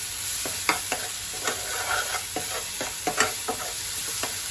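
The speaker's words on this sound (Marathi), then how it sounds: "छान असा मसाला आता मी भाजून घेत आहे" Ground masala paste with chopped coriander roasts in a pan, a close, steady sizzle punctuated by rhythmic spatula scrapes and knocks about every half second.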